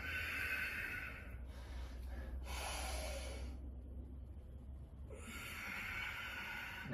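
Breath during a bodyweight exercise routine comes as a few close, breathy airy rushes, with one longer exhale and quieter pauses between, heard alone without talk.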